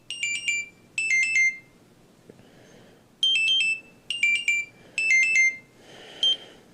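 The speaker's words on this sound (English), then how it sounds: "This timer I had on a clock went off, and it started going off like that." A clock's timer alarm rings in repeated bursts of rapid high-pitched beeping, several loud clusters separated by short quiet gaps, with no talk.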